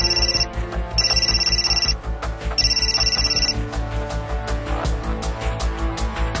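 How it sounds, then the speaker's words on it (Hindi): A telephone rings in bursts, the call coming from kidnappers holding a child in Karachi. Three repeated electronic ring trills sound clearly over a steady background bed. "ऐन दौरान गुफ्तगू एक बार फिर अगवाकारों की जानिब से फोन बजने लगा"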